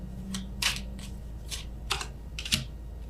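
Soft, crisp flicks and slides of tarot cards being drawn and handled during a love reading, about five quick riffles spread over a few seconds above a steady low hum, close and with no voice.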